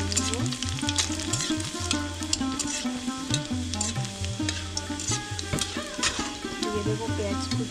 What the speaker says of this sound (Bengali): এখন দিয়ে দেবো রসুন কুচিটা। রসুনটা একটু ভালো করে লাল লাল করে ভেজে নেবো।